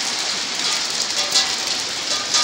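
Hail falls outdoors as a dense, even hiss of many small ice pellets striking surfaces, loud and continuous with no voices.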